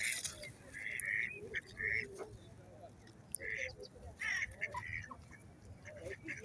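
Ducks or other waterfowl feeding on bread, giving repeated short quacks and honks near and far over steady outdoor rumble, while people speak in the background.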